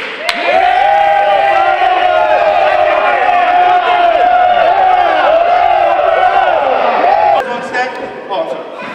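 Loud crowd of extras cheering and whooping on a film set for a dodgeball scene, a sustained wall of overlapping shouting voices that holds steady for several seconds, then cuts off sharply and drops into a quieter murmur.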